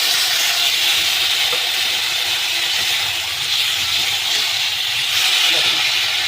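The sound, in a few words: ginger garlic paste frying in a pan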